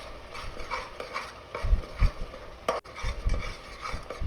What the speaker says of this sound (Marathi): आता हे मसाले छान असे परतवून घ्यायचे आहेत